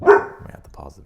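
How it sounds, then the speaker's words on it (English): A single sharp dog bark sounds close at the start, followed by a person talking. "That's my dog."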